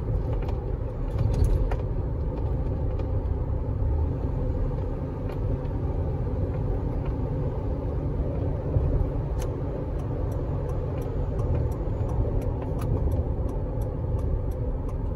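A 2003 Toyota Tacoma Xtracab SR5 V6 pickup drives along a road, with a steady low engine and road rumble heard from inside the cab and no talking.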